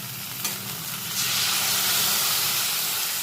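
Water from rinsing a spice bowl hits a hot pan of spiced vegetables for chorchori and sets off a loud, close sizzle that swells into a steady, bright hiss.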